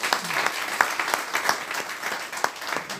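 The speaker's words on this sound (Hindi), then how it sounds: "उनके लिए जोरदार तालियां।" A crowd at a federation's birthday celebration event applauds steadily, many hands clapping in a dense, sustained patter at moderate loudness, with no voices standing out.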